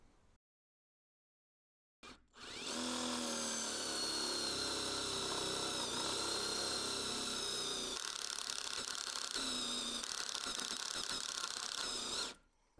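A power drill drives a 14 mm screw through wood into steel, a loud continuous whirring grind lasting about ten seconds after a short silence, then stopping abruptly.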